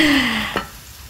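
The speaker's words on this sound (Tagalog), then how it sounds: "Saute until golden brown." Garlic sautéing in a pan for pork and string-bean adobo cooked in Coke, a steady close sizzle with a stir scrape midway that fades toward a quieter end.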